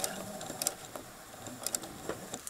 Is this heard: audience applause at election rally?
no